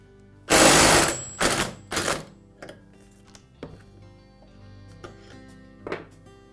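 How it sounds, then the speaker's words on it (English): Impact wrench spinning a clutch removal tool to free the clutch on a Poulan chainsaw: a loud first burst of hammering, then two shorter bursts, followed by faint clicks and light handling noises. "use my impact to remove it in a clockwise rotation"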